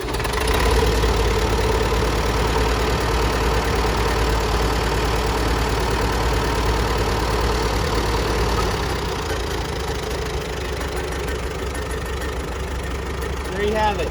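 An old tractor, left sitting for about twenty years and started with its electric starter, idles steadily and loudly up close, a continuous low engine rumble with a slight knock, easing a little toward the end.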